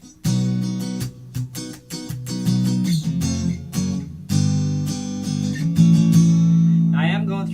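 Electric guitar fitted with cheap Chinese pickups, switched to the bridge and middle position and played through a PA, giving a busy run of strummed chords and picked notes that ends on a sustained chord.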